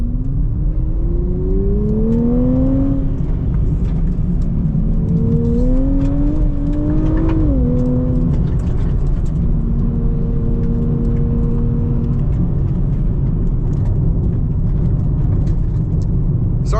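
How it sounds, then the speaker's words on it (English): A 2025 Nissan Z Nismo with no sound deadening in the wheel arches drives down a normal road, its steady, loud engine and tyre roar filling the cabin with a rising and falling engine tone. "this car doesn't have sound deadening material in the wheel arches, because it's just throwing up all the rocks and it's just making a lot of noise"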